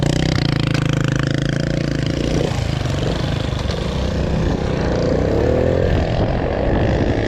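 A Viper 150 motorbike with a PZ-30 carburetor runs flat out at top speed, a loud continuous droning engine with strong wind rush, steady throughout with a slight pitch shift midway.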